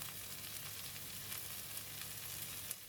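Sweet corn kernels frying with butter and salt in a pan, giving a continuous close, even sizzle with a few faint crackles and no talking.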